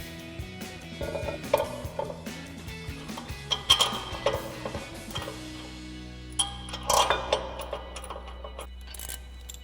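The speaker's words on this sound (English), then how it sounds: "we're going to reinstall our bracket now and reinstall with our two 21mm bolts that we took out" Metal clinks, ratcheting and tool clatter from reinstalling a brake caliper bracket with two 21mm bolts on a 2019-2024 RAM 1500, in scattered close knocks and taps against a quiet garage background.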